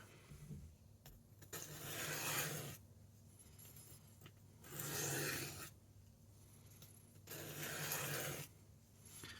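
A blade is sharpened with light pressure, producing three even, broadband scraping strokes of about a second each, separated by quiet gaps, close and alone without speech.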